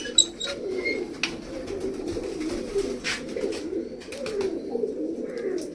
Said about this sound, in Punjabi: ਫਿਰ ਆਪਾਂ ਕਰਦੇ ਆ ਇਹਨਾਂ ਦੇ ਸਾਰਿਆਂ ਦਾ ਦਾਣਾ ਪਾਣੀ